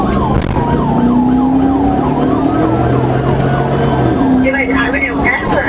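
A police car siren wails loud and close during a high-speed pursuit, cycling through rising and falling yelps over the roar of the vehicle.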